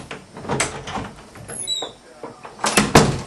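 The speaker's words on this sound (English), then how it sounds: "You probably couldn't see that, but I opened the door." A door is opened in a house as part of a paranormal scare, giving a few knocks and a high squeak midway amid handling noise, close and fairly loud.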